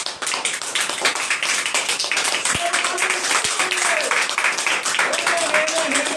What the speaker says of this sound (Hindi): जोरदार ताली हो जाए यीशु के लिए।